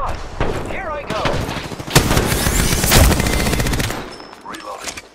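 Gunfire in Apex Legends: rapid automatic bursts and single sharp shots ring out close and loud, interleaved with a louder impact, while a voice talks briefly over the combat.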